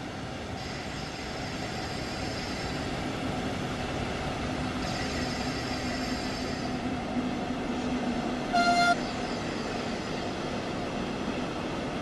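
A train rumbles steadily along the track in a continuous broadband roar, with faint tonal squeals, and a short, loud horn blast sounds near the end.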